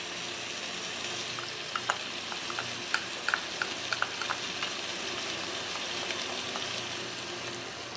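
Couscous stew ingredients stirred in a pot over heat, a steady soft sizzle with light scattered clicks and scrapes of the spoon, close and continuous without voices.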